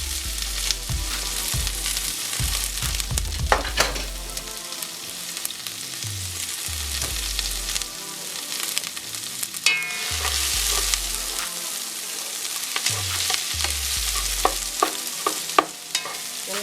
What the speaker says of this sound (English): I'm just going to throw my onions in there. My onions and my scallions.